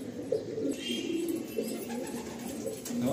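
Pigeons in a loft give low, soft, rolling coos that overlap and carry on without a break, close by and fairly quiet.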